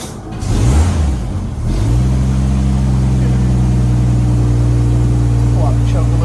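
A 1954 Ford F100 truck engine catches after cranking on a cold day and settles into a loud, steady rev close by, its carburetted motor droning continuously.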